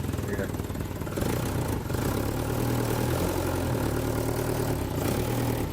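Classic car engine idling roughly with no choke fitted at an outdoor tinkering event, a steady uneven low drone close by with a faint voice briefly over it.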